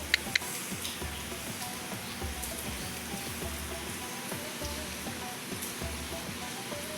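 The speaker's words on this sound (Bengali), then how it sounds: "কাল থেকেই বৃষ্টি হচ্ছে।" Steady rain that has kept falling since the day before, a soft, even hiss of drops on surfaces with a couple of sharp ticks near the start, quiet and continuous with no voices.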